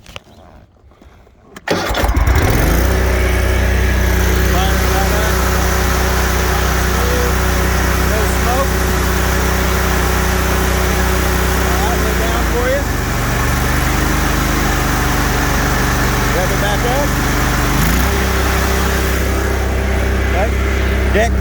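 A 48-inch Kubota Kamander commercial-grade zero-turn riding mower starts up after a brief crank, then runs loud and close at a steady idle, its pitch dropping and rising slightly twice, with a voice faintly heard over it.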